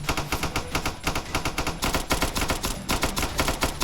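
Rapid mech gunfire in the Cavalry Girls video game, loud, dense bursts of shots rattling continuously with a steady rhythm and no talk over it.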